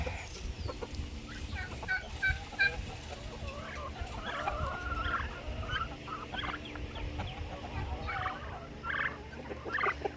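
A flock of turkeys, including white meat turkeys, and other fowl gobbling and clucking at moderate distance, with steady bursts of calls over a constant low background rumble.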